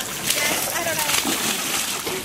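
A baby splashes and sloshes in bath water, making continuous close wet slaps and churning, with some soft vocal sounds mixed in.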